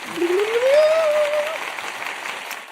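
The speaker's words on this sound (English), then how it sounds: "You're going to get another applause, my friend." Applause rises and fades over a couple of seconds, a moderate wash of clapping with a rising whistle or voice tone sliding through it early on.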